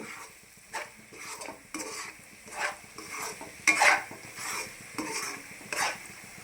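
A spoon scrapes and stirs egg rice masala in a hot pan, rhythmic strokes every second or so over a soft continuous sizzle of frying, close and fairly quiet.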